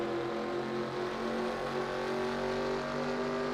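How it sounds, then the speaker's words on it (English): A number 46 Camaro race car engine in a racing video game roars steadily and loudly at sustained high revs, a continuous droning tone with no talk over it. "Let's go on board with that number 46 Camaro"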